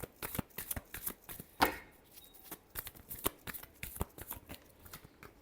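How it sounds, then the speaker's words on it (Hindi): Tarot cards are shuffled up close in quick, rhythmic riffling bursts with one sharper snap partway through, clear and with no talk. "last shuffle"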